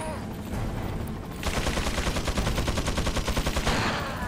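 Rapid bursts of gunfire in Resident Evil 4, including magnum shots, a fast rattling series of shots after a brief quieter lead-in, loud and continuous.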